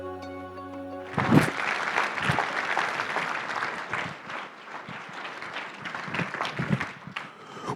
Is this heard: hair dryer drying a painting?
no